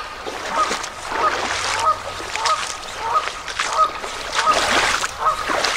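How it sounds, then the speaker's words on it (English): Mallard ducks quacking in a repeated series of short calls at a distance, heard over a running creek and outdoor background noise. "Got some ducks up there, probably some mallards."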